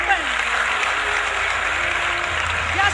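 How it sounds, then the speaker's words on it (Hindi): Loud, sustained applause from a large crowd in Dehradun, Uttarakhand, greeting the launch of development projects by Narendra Modi, a thick steady roar of clapping with an amplified voice faintly audible beneath it. "एक बार जोरदार तालियां"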